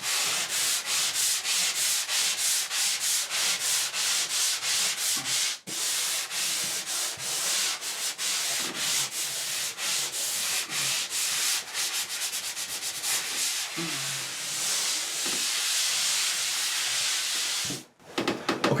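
Hand-sanding a filled hole in drywall around a doorknob repair: loud, close rhythmic rasping strokes in quick steady succession, continuing for most of the stretch with only a couple of short breaks.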